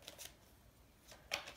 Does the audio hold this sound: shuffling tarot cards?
yes